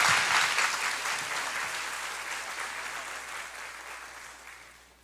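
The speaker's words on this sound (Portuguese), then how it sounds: "Vamos com as palmas." A church congregation claps together in steady broadband applause that starts loud and gradually fades over about five seconds, with no talking over it.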